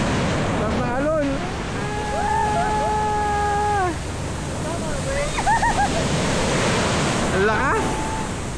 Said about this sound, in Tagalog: Sarap na alon.